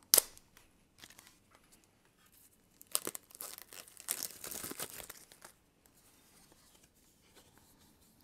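Plastic wrap being torn and peeled off a thick stack of board game cards for Perseverance: close, intermittent crinkling and ripping, busiest in the middle with quieter rustles around it.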